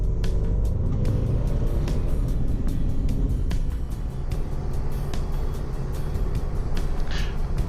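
A car cruises along a two-lane highway paralleling the Columbia River, with a steady loud engine and road rumble and continuous tire noise, with no talk over it.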